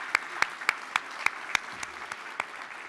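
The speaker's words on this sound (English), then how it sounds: "let's give another round of applause for that informative and inspiring presentation" Sparse, scattered claps from a small audience at a civil engineering professional development event, about a dozen distinct sharp hand claps spaced irregularly, fairly close and moderately loud, with no voices.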